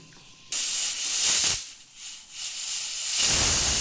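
A pressure cooker with taro in it blows its whistle, releasing a loud, rushing jet of steam that surges and dips over several seconds after a quiet start.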